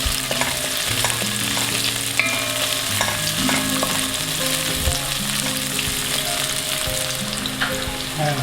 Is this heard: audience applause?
no